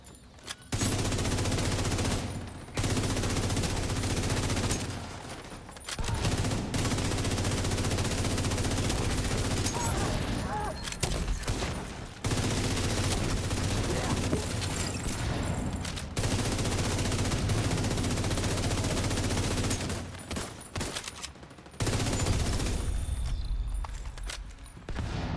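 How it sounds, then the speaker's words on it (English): Sustained bursts of video game gunfire from a hostile sniper turret, loud and near, running in long stretches broken by brief pauses, with no talking. "Hostile sniper turret detected. Sniper turrets can hurt."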